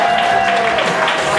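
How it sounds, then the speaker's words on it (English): Wedding guests applauding together, a dense burst of clapping from a crowd in a reception hall, loud and sustained throughout with no break. "applause"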